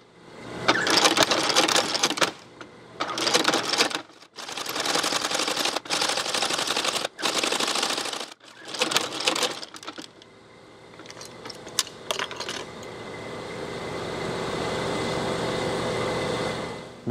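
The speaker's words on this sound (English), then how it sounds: "And it will sew anything you can get under the foot there." A sewing machine stitches a leather holster in several loud bursts of rapid mechanical clatter separated by short pauses, followed by a few light clicks and then a steadier, quieter hum.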